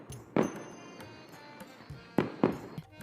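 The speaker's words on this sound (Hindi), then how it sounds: "बाहर पटाखों की आवाजें गूंज रही हैं।" Firecrackers burst outside on Diwali night, a few sharp cracks spaced irregularly, with two louder pops close together near the end over a faint crackling background.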